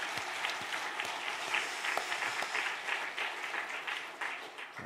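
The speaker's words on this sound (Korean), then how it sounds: "우리 박수로 격려하겠습니다" A congregation at a New Year special dawn revival service claps in encouragement, a steady, moderately distant wash of applause filling the room.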